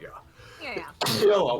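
A sharp, sudden sneeze bursts out right after brief casual speech, loud and close during a tabletop game session.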